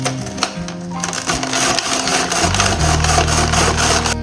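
SUSTEAS rotary grater with a thin julienne drum slicing vegetables, a loud close crunching and whirring shred that grows steadier and denser toward the end.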